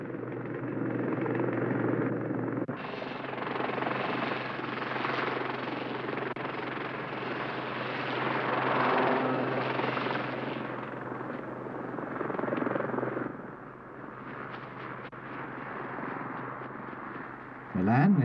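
A Westland Lynx military helicopter flies with a steady, loud rotor and turbine roar that lasts throughout, surging in the middle and easing near the end, while a voice speaks over it.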